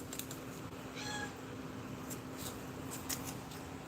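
A two-year-old tortoiseshell cat gives a single short meow somewhere in the background, faint over a low steady room hum.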